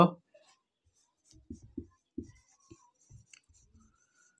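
Chalk or marker strokes on a board while writing an English sentence, a few short scratchy taps and scrapes in quick bursts after a brief opening sound, faint and close.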